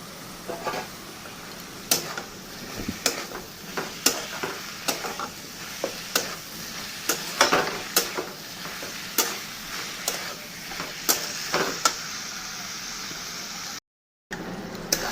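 Chopped banana flower sautés in a hot pan with steady sizzling, broken by regular scraping knocks of a spatula stirring, close and alone, then a brief cut to silence near the end.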